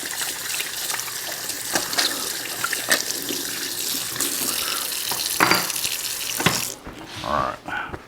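Tap water runs into a sink as hands are washed under it, a loud steady gush with splashing that cuts off near the end, followed by faint drips and handling.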